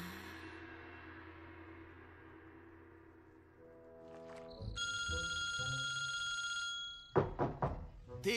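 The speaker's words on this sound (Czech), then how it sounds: "Ty, Jacko, furt ti tu zvoní mobil, tak ho zvedni." A mobile phone rings with a bright repeating electronic tone after a stretch of fading music and a thump, loud and near, followed by clattering knocks.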